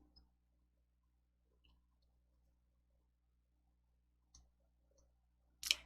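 Computer mouse clicks on a coding block, a few sparse, quiet taps spread over a near-silent stretch, ending with a sharper, louder click.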